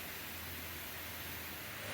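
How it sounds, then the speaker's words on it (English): A heavy rain downpour hisses as a steady, even wash of noise in the background, faint and unbroken with no voices. "So the noise you hear in the background is the rain."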